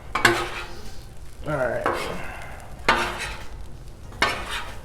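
Beef fried rice is stirred on a Blackstone griddle, with scraping and clanking spatula strokes coming at intervals over a low sizzle. Someone speaks briefly.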